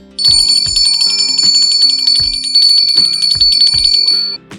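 School first bell for the start of the school year in Ukraine, a bright bell-like electronic chime ringing in a repeated rhythmic pattern, loud and close, alone without voices.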